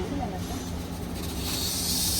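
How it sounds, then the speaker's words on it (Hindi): A closed pressure vessel holding liquid nitrogen in a Mumbai research institute hisses steadily, like a pressure cooker whistling without heat. The broad rushing hiss grows brighter toward the end, with a faint voice underneath. "इमीडिएटली प्रेशर बढ़ गया, बिना गैस पे रखे सीटी बजाने लगा।"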